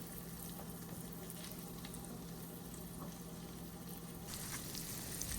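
Pieces of stuffed chicken sizzle in a hot pan after being flipped, giving a steady, soft, hissing fry with faint crackles throughout and no voices.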